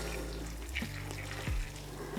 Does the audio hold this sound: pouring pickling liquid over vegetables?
yes